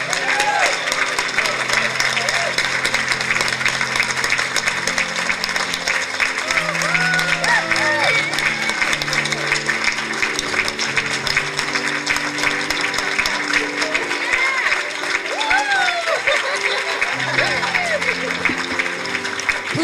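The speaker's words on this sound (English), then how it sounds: "Another big round of applause." Audience applause at a graduation ceremony, a steady dense wash of clapping lasting the whole stretch, with voices and speech mixed in underneath.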